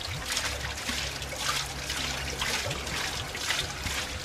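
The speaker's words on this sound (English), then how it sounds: "And a little water wheel." Water trickles and splashes steadily from a small water wheel in a Tasmanian garden, a continuous close dribbling sound with gentle, uneven gurgles and no talk.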